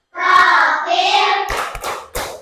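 Elementary school class of fifth graders doing the Tepuk P5 clapping chant, children's voices chanting together over a steady run of claps, ending in a few loud, sharp group claps.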